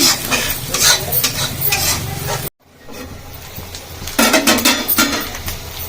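Chicken liver fry being stirred in a pan, with scraping spoon strokes and a steady sizzle, a brief dropout midway, then louder clattering stirs close up.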